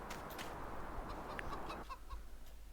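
Chickens cluck softly in the video game Farming Simulator 19 over a steady hiss of background noise, a few short clucks scattered across a couple of seconds.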